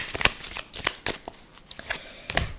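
Tarot cards being shuffled by hand at close range, a quick series of crisp riffling slaps and flutters with slight pauses between them.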